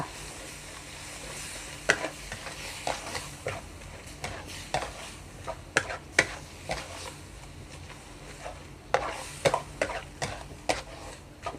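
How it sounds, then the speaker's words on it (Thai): Chicken, glass noodles and cabbage stir-fried in a pan with oyster sauce, giving a steady close sizzle broken by sharp scraping and clinking strokes of a utensil against the pan. "ผัดให้เข้ากันค่ะ"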